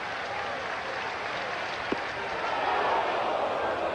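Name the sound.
baseball stadium crowd cheering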